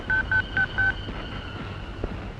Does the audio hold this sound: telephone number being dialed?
yes